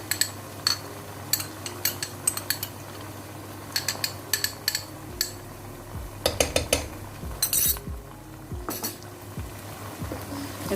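A spoon stirs tomato paste into dal mash in a cooking pot, tapping out irregular bright metallic clinks against the pot sides with a quiet pause in the middle and steady low background hum.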